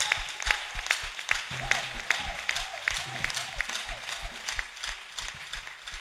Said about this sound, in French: Bénis encore le Seigneur par l'acclamation.